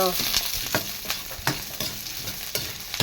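Onion and garlic sautéing in a pan, a steady broadband sizzle with repeated sharp scrapes and clinks of a utensil stirring against the pan at a loose rhythm, close and fairly loud, no talk.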